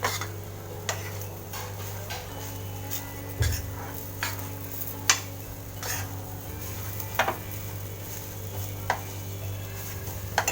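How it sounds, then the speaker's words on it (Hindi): Urad dal roasting with spices in a kadhai for kachori filling, a steady low sizzle under repeated scraping and clinks of a spoon against the pan. "कचौड़ी में भरने के लिए ये मैं दाल भून रही हूँ।"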